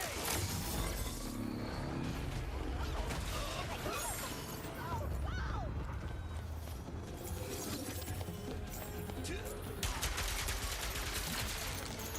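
Rapid gunfire bursts from a Ratchet and Clank video game trailer, dense and continuous across the whole stretch, with shattering crashes and a steady loud mix; voices come through beneath.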